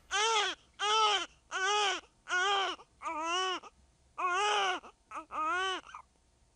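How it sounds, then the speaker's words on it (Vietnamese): An infant wails in a series of about eight separate, close crying bursts with short breaths between them, each cry rising and falling in pitch. No other sound accompanies the crying. "tiếng khóc của đứa trẻ con trong phòng cứ yếu dần yếu dần"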